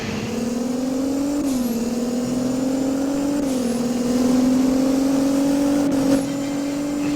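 A Nissan car accelerating in the Roblox game Driving Empire, a loud, steady engine drone that climbs through the gears with brief dips at each shift, heard alone without talk.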